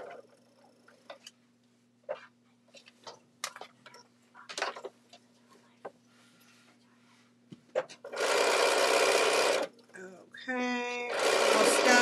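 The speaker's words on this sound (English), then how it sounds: "3 or 4 threads, Fran, off of the fold on the binding strip." A sewing machine stitches a quilt binding strip near the fold, running in two sustained loud bursts with a brief pause, after a stretch of quiet clicking handling sounds and scattered soft taps.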